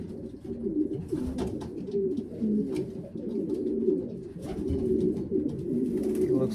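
Racing pigeons coo steadily and close by, a dense overlapping stream of low throaty rolling coos, with faint higher clicks and scuffling sounds mixed in throughout.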